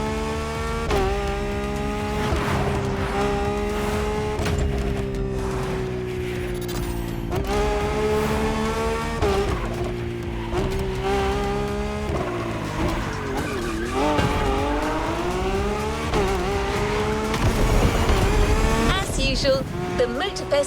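Race cars drift in The Crew Motorfest video game, their engines roaring with rising and falling revs under long, continuous tire squeal. The sound is loud and sustained with repeated gear shifts and a narrator talking over it.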